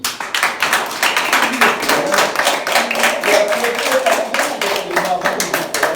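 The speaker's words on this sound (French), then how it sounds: "Applaudis le Seigneur." A congregation at a children's church service applauds in praise of the Lord, with steady, dense rhythmic clapping throughout, fairly loud and close, and voices mixed in.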